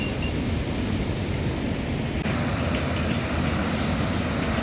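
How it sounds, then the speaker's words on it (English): Sea waves crashing on Eastern Beach in Gibraltar, a loud, continuous wash of surf close by with steady roaring noise and no talk. "We see waves crashing into the shore."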